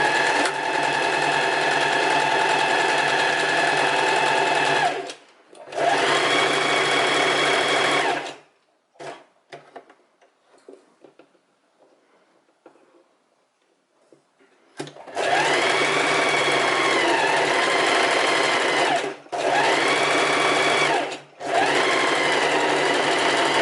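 An electric sewing machine running straight seams on linen shorts: steady high whirring bursts of several seconds each, stopping briefly between runs, with a quiet stretch of fabric handling in the middle.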